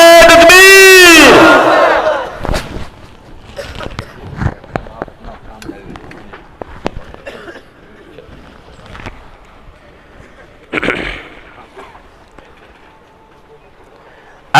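A crowd at an Islamic religious gathering answers a preacher by loudly shouting the slogan Nara-e-Takbir in a brief, forceful burst of massed voices. Scattered noise and quieter talk follow it.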